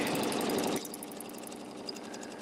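A sewing machine stitching background fills on a placemat, a fast steady mechanical whir that runs loud for under a second, then continues softer and evenly.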